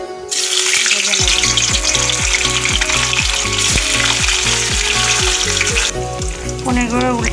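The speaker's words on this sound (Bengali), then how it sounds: "পনিরগুলো উল্টে পাল্টে হালকা করে ভেজে নেব" Paneer pieces fry in hot oil with a loud, steady, close sizzle throughout, broken by repeated rhythmic clinks and scrapes of a utensil turning the pieces.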